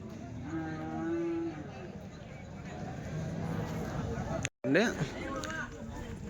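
Cows at the weekly Chintamani cattle market, Karnataka, let out a low moo amid a busy crowd, with people talking throughout and a brief dropout near the end.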